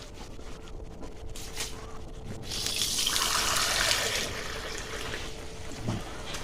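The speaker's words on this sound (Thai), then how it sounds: "เดี๋ยวผมจะเติมน้ำไปหนึ่งถ้วย" Water poured into a pot of snakehead fish curry with noni leaves, a close splashing pour that swells for a couple of seconds and then settles into a softer trickle, with a few light knocks near the end.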